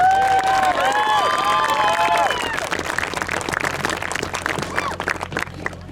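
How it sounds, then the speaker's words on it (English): Loud crowd applause with cheering and whistles, steady clapping that thins slightly toward the end. "Please give them a round of applause."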